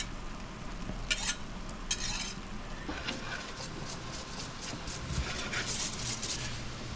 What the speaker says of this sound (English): we're going to toast some breadcrumbs here